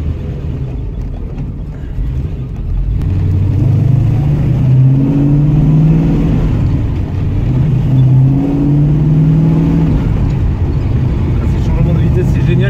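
1971 Chevrolet Nova with manual gearbox accelerating hard, a loud, close engine climbing in pitch, a brief drop at a gear change, then rising again with another shift later.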